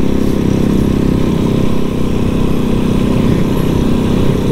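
A custom Janus Halcyon 450 motorcycle climbs a mountain road in Washington, its engine a loud, continuous low drone that holds steady from start to finish with no voices over it.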